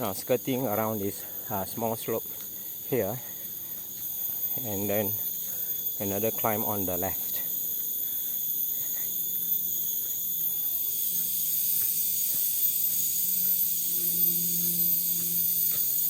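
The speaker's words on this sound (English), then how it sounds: "You can hear the sound of cricket in the background." Crickets chirp steadily in a forest along a hill hiking trail near Penang, a constant high buzz that continues after the talking stops, while a person speaks over it during the first half.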